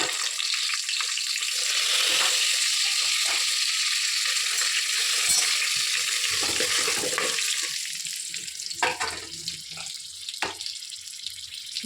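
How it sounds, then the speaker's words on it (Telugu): Whole spices hit hot oil and sizzle with a loud, bright, steady crackle, broken toward the end by a few sharp pops and clatters. "ఆయిల్ వేడెక్కిన తర్వాత బగారా సామాన్ వేసుకో."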